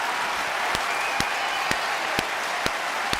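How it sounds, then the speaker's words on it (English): A wash of crowd applause fills a podcast, steady and fairly loud, with a few sharp, evenly spaced claps standing out through the hiss-like roar. No one speaks. "Round of applause for that."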